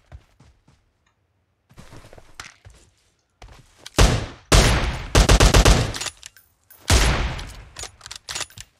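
Gunfire in the PUBG Mobile shooter game, played on an emulator, comes in short loud bursts and single shots separated by quiet gaps, with a few faint clicks and thumps between volleys.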